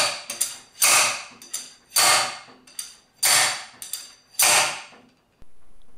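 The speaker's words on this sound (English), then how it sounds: "Use an M14 threaded bolt on the slide hammer and hammer the pinion" Slide hammer fitted with an M14 threaded bolt driving a pinion into an MK S pump gearbox, giving about five sharp metallic strikes in an uneven rhythm with lighter clicks between them, close and clear.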